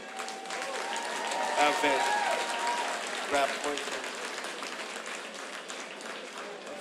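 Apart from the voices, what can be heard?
crowd applause at concert for the bands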